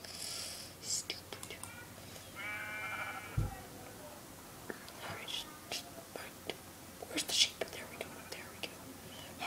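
A single sheep bleat from Minecraft sounds briefly and faintly, with whispery soft talking and quiet clicks around it.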